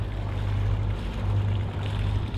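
Sailboat engines running to charge the batteries on a gloomy, rainy day at sea, a steady low drone with a constant hum under broad wash and water noise, unbroken throughout.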